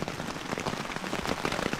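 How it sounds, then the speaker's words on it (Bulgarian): Rain falls steadily on a tent during a camping trip, a dense, even patter heard from inside with no talk. "О, добре, вече сме в палатката вънка, наистина вали много хубаво"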